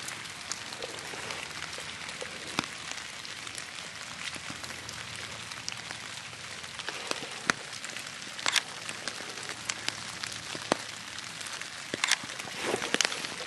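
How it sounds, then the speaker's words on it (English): Rain falling steadily outdoors during a photography outing, a soft continuous patter with scattered sharper drops tapping nearby. "The rain seems not going to stop."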